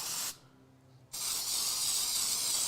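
An aerosol spray hisses onto a handmade rug in two steady bursts, a short one and then a longer continuous one, close and bright, with a brief quiet gap between and no talk.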